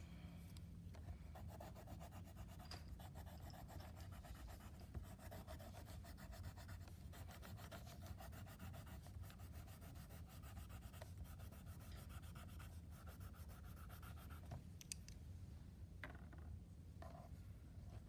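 Colored pencils scratch and rub across paper in a continuous, faint, close-up scribbling with quick back-and-forth strokes.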